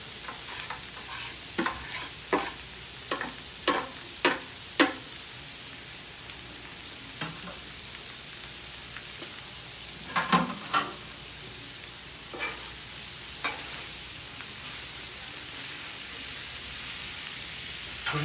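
Pork meat and onions frying in a pan for tacos, a continuous loud sizzle close up, punctuated by a run of sharp utensil scrapes and taps early on and scattered clacks later, no voices.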